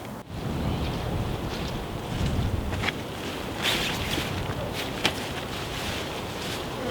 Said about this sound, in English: Wind's really kicking up.